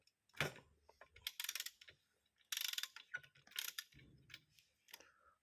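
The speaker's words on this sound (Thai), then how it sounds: "ก็ทำการหมุนนะครับ เอาหัวเทียนออก" A socket wrench ratcheting as it loosens the spark plug on a shoulder-strap brush cutter that will not start, quiet close clicking bursts separated by short pauses.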